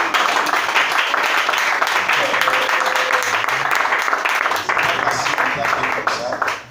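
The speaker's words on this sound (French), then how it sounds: "Mais acclamez le Seigneur Jésus pour lui." A church congregation applauds during a lively worship service, dense continuous clapping and cheering filling the space at high volume, with voices mixed into the crowd noise throughout.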